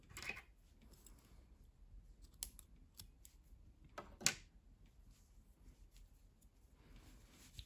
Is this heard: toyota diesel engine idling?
no